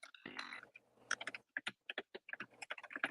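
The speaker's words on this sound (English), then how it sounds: "I'm typing it right now, so you can probably hear my keyboard." Keys clatter on a computer keyboard in a quick, uneven run of close, crisp clicks, with brief pauses between bursts and no talk over them.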